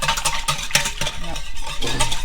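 Beignet batter whisked by hand in a bowl, a quick repetitive scraping and sloshing rhythm, close and fairly loud, without a pause.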